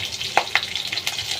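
Hilsa fish head and bottle gourd frying in a pan while being stirred, a brief close burst of sizzle punctuated by a few sharp scraping taps of the spatula, no speech.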